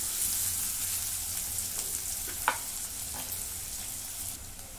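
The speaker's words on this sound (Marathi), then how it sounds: "कांदा चांगला मी भाजून घेते." Onion sautés in a pan, a steady close sizzle with a sharp stir or utensil tap midway, fairly soft overall and fading slightly toward the end, without talk.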